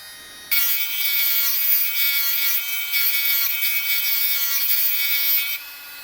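Grinder sharpening a point to a 20 degree angle: a steady, high-pitched whine with a gritty grinding edge starts abruptly after half a second and holds for about five seconds before easing off.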